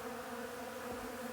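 Honey bees drone steadily around stacked beehives with escape boards on top, a continuous close buzzing hum with no pauses and no voices.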